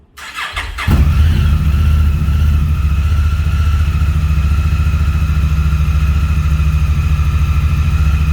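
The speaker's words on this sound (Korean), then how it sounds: "2기통 엔진인데 일발 시동이 너무 쉽게 잘 걸려요" A two-cylinder 2017 Honda Africa Twin motorcycle engine cranks briefly, catches at once, and settles into a steady, loud idle with a deep even rumble.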